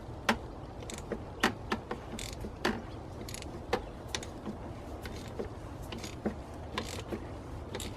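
A wrench loosens the oil filter cap on a BMW M47/M57 diesel engine. Irregular, crisp ratcheting clicks and metallic ticks sound close by against a faint background, with no voices.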